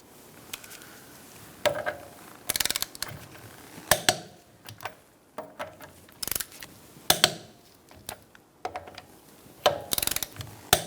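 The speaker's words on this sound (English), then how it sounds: "Using a 19mm socket, we're going to be torquing our wheels to 100 foot-pounds." A torque wrench with a 19mm socket ratchets and clicks as the wheel lug nuts of a 2012-2018 Ford Focus are tightened to 100 foot-pounds in a star pattern, making sharp, close bursts of clicks at irregular intervals.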